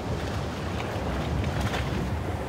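A boat motors through a sea crossing toward Svalbard, a steady low engine drone blended with wind and rushing water, continuous and fairly loud without speech.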